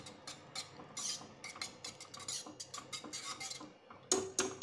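A utensil scrapes and clinks against a pot while hot, freshly boiled dal is stirred, with quick irregular taps and rattles and a sharper clatter near the end.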